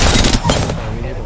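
Rapid gunfire in the video game Apex Legends on the Kings Canyon map, a dense burst of loud shots packed into about a second over a busy background.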